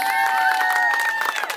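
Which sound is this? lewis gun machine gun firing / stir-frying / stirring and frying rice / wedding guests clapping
wedding guests clapping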